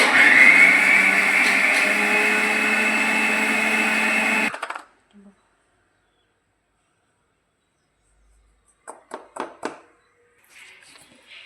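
A mixer grinder whirs loudly and steadily as it grinds spices for misal masala, then cuts off abruptly after about four seconds. A few faint clicks and taps follow after a pause of silence.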